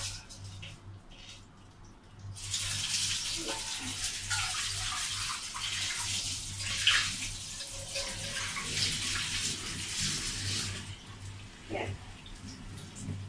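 Water from soaked basmati rice is drained off into a sink, a steady splashing pour lasting several seconds with faint drips and clatter at the start and end, no voices.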